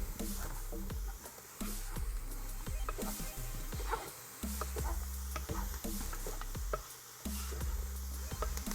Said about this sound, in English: Let's get the mix in here. We'll mix this for a couple of minutes.